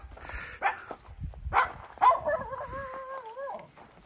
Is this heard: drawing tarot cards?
no